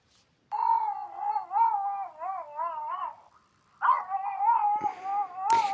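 A dog begging for food howls and whines in long wavering tones, two drawn-out bursts separated by a short pause, close and fairly loud, with no talking over it.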